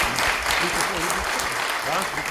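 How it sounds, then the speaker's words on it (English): Audience applause for a panel at a conference on digitalization and welfare and labor, dense steady clapping filling the room from start to finish with a few voices faintly mixed in. "Give this panel a round of applause."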